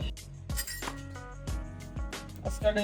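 Ceramic bowls being handled while chow mein is served clink and chime in a home kitchen, several bright separate knocks with ringing tails, with faint background voices.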